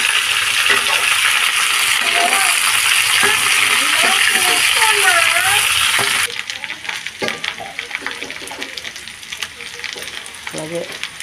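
Okra sizzles steadily in a hot pan, with spatula scrapes and stirring clinks, then the hiss softens partway through as cooking continues; a voice speaks now and then over the frying.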